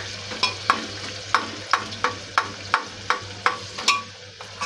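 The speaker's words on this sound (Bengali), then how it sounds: "তেলের মধ্যে গোটা গরম মশলা দিয়েছি, বলতে ছোটো এলাচ, দারচিনি, লবঙ্গ দিয়ে একটু সামান্য চিনি দিয়েছি, আর নুন দিয়ে আর একটু হলুদ দিয়ে পেঁয়াজটা ভাজছি।" Onions frying in hot oil with whole cardamom, cinnamon and cloves, a little sugar, salt and turmeric: a steady close sizzle broken by a regular series of sharp spatula scrapes and stirs, with no talking.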